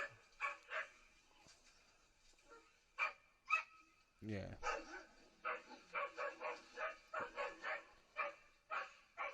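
A dog barks in a watched video, a rapid series of sharp yaps and barks up close, with a brief low whine partway through and people talking over it.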